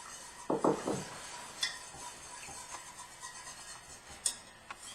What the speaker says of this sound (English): I'm going to pour that in and keep stirring until that egg yolk thickens up this pudding mixture